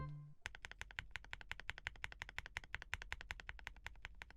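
Rapid typing on a custom mechanical keyboard with lubed linear switches, a fast, even stream of soft, muted keystrokes, close and fairly quiet, with no talking.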